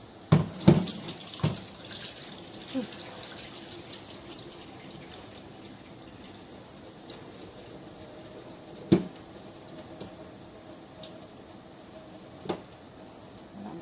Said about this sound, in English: Gonna let it drain until all of that starch is out of there.